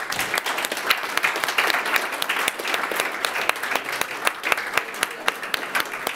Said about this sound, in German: seinen riesigen Applaus abholen